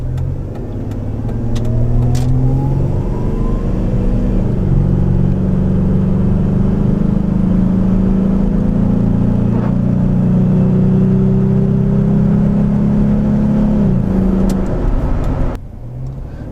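A 2003 Ford Ranger 3.0 Edge 2WD engine revs loudly up close, its exhaust droning and rising in pitch through a long sustained pull before dropping away near the end, with no talking over it.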